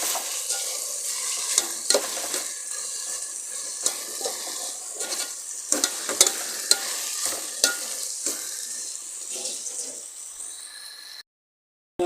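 Chicken curry being stirred in a pan over steady, loud frying sizzle, with repeated scraping strokes of a spoon against the metal, and no talk; the sound stops abruptly near the end.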